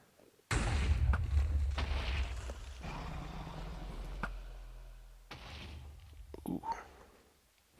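Explosions in the video game Minecraft go off in a sudden loud boom that rumbles on for several seconds, followed by a second blast and trailing debris clatter.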